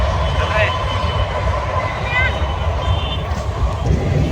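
A train crosses a bridge near the Prayagraj Kumbh Mela, a continuous loud rumble with rattling and squealing wheel tones, while people talk faintly in the background.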